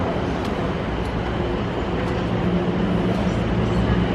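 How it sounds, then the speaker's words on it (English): Train pulling into a station platform, a steady, loud low rumble with faint higher rail noise, continuous throughout with no speech. "The train is arriving."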